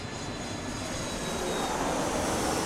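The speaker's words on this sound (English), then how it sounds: "the plane is here, so we have to shut up" An airplane drones overhead in a steady, broad engine roar that swells slightly, continuous and fairly faint, with no voices heard.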